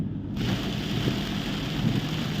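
Heavy rain pours onto a car during a severe storm, a dense, continuous hiss and drumming on the body with low road rumble underneath, steady throughout.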